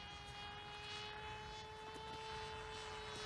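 A small model plane, a Mini Crossbow, drones steadily overhead at a distance, a faint continuous engine hum over outdoor background noise with no talking.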